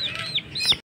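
A hen clucks close by in a backyard flock, giving a couple of short rising calls followed by a louder squawking cluck, loud and alone with no talk.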